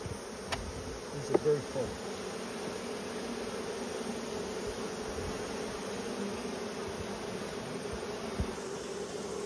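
A dense, even hum of honeybees fills the air around hive frames during a honey harvest, close and continuous. A few soft knocks are heard early on, and a voice speaks briefly over the buzzing.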